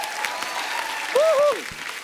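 Loud studio audience applause on a Hindi comedy talk show, a dense wash of clapping with a brief whoop or cheer rising above it partway through.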